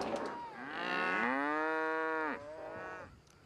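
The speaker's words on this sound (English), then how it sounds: "we have 32 head of cattle, and we have a team of horses" A cow moos loudly and close on a family farm, one long drawn-out bellow rising and then holding before trailing off, with no other sounds over it.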